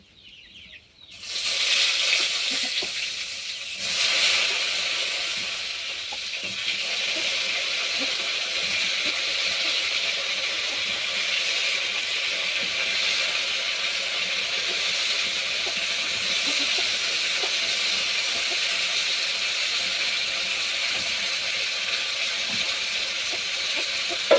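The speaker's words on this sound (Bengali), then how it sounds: "এই তেলে আমি সবজিটা ভেজে নেব আমি সবজিটা কেটে রেখেছি আলু আর বেগুন এটা আমি ভেজে নেব" Cut potatoes and eggplant drop into hot leftover fish oil and burst into a loud sizzle, which fades to a steady bubbling hiss that carries on alone.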